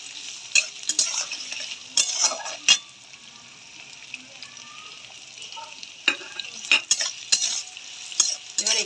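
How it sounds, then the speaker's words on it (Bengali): Chopped onions fry in a pan for a Bengali methi mutton, a soft steady sizzle broken by repeated scraping clinks of a spatula stirring against the metal. "এবার একটু লাল লাল হবে ভাজা"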